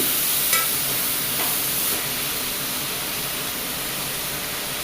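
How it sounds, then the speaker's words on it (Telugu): Capsicum pieces and tomato are stirred in a hot pan under a steady close hiss of frying. A few soft scrapes of the spoon sound early on, and the sizzle then settles to a constant level. "క్యాప్సికమ్ ముక్కలు టమాటా వేసుకొని బాగా మిక్స్ చేసుకోండి"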